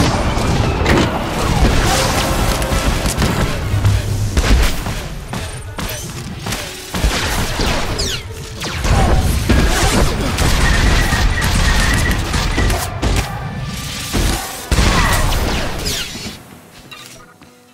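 Soldiers open fire in a Star Wars: The Old Republic trooper cutscene on Coruscant: loud, dense bursts of blaster fire and heavy booming impacts crowd the scene almost continuously, cutting off abruptly near the end.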